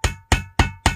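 A tin can being punched with holes to make a candle heater gives four sharp, ringing metallic strikes in an even rapid rhythm. They are loud and close, each with a brief clanging decay.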